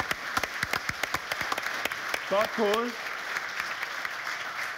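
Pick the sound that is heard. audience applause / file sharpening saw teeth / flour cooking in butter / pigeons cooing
audience applause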